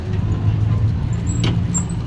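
A tricycle passes on a dark road in Angeles, its motor a loud, close rumble that holds steady with a brief hiss near the end.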